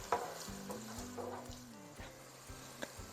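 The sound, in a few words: white wine sizzling in a hot pan of chicken filling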